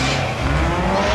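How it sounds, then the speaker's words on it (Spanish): Rally race car in a Cat 4-cylinder class accelerating hard toward the finish, a continuous loud engine roar with tire noise, close and unbroken, no speech. "Acelerando para terminar el Junior Santana."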